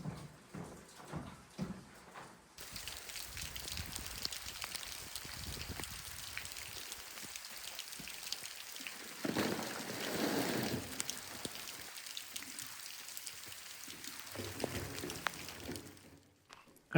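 Steady rain falls outside, a dense, even patter that sets in after a couple of seconds and holds close and fairly loud, swelling slightly midway before cutting off near the end, with no one talking.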